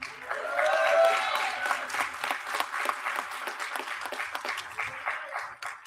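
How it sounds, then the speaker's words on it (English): A graduation ceremony audience for manufacturing program graduates claps warmly and steadily, a dense, sustained round of applause that swells early and then holds, trailing off at the end. "Let's give another warm and big applause for this group of NDT graduates"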